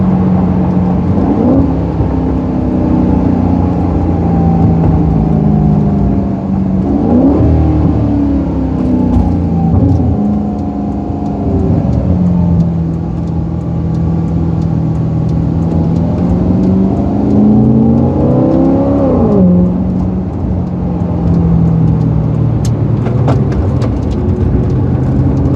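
Maserati GranTurismo Convertible on the move: a steady engine drone rises with acceleration and dips at each gear change across several shifts, loud and continuous with road noise and no talk.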